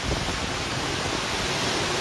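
Storm wind blowing hard through tree branches in Bulgaria during a fire-season downpour, a dense, continuous roaring whoosh close to the microphone with gusty buffeting and no letup.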